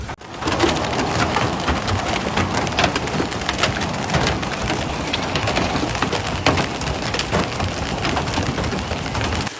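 Intense hailstorm in Rome, a dense continuous clatter of hailstones striking hard surfaces, with sharp louder impacts scattered throughout, steady and close.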